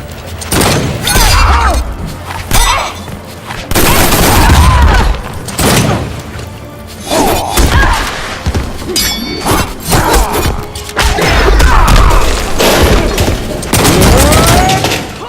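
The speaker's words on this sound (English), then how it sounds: "Gun butt straight to the face repeatedly." Repeated gun-butt strikes to the face in the Injustice fighting game: heavy thuds and booms crowd a dense, loud barrage of combat effects and gunfire-like bursts, with a voice faintly underneath.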